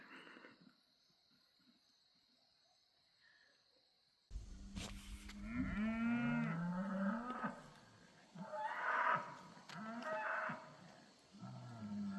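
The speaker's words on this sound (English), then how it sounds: "Look, every day you have a cow come through your camp." A cow lowing at a bush camp on Skull Springs Road in Western Australia; after a quiet start, a loud, drawn-out moo rises close by, followed by further deep calls that swell and fade.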